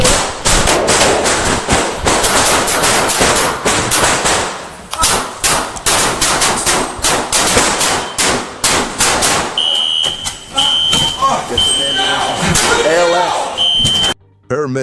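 Rapid bursts of gunfire during a police standoff with an armed suspect, loud and dense for about ten seconds amid shouting voices, followed by a quieter stretch with a steady high electronic beeping like an alarm.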